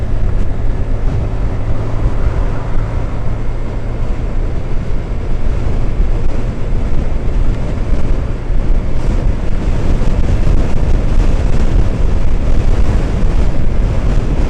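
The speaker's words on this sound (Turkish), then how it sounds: "Çok rüzgar var." Steady, heavy wind roar buffets the microphone throughout while riding a Mondial Drift L motorcycle in Uşak, Turkey, a constant low rumble with no pauses.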